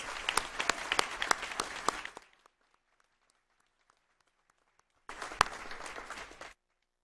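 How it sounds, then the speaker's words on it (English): Audience applause at a school district board meeting, a burst of clapping for about two seconds, then quiet, then another shorter round of clapping. "Can we do one more round of applause for all of our standouts?"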